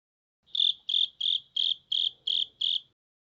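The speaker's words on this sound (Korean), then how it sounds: "오늘도 영어 청취 도우미 귀뚜라미가 함께합니다" A cricket chirps seven times in a quick, evenly spaced series of bright, shrill pulses that sound close and clear against otherwise near silence.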